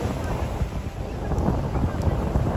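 Gusty wind buffets the microphone in a steady low rumble on Southend-on-Sea Pier, United Kingdom, with an open-water, outdoor feel and no clear voices.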